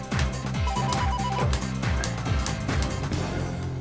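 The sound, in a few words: telephone ringing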